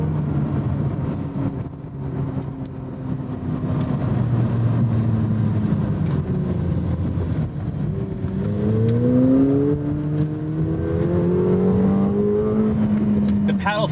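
Engine of a 2024 McLaren 750S pulling hard, rising tones climbing through the gears heard from inside the cabin, loud and continuous with a brief dip between shifts.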